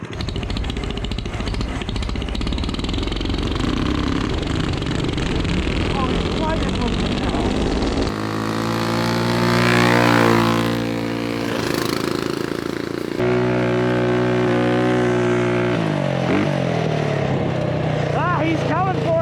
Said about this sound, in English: All right, let's do a drag race.